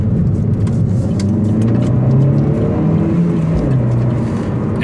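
A 2017 Opel Corsa OPC with a 207 hp engine accelerating on a track, its steady engine drone pulling up out of a corner, heard from inside the car.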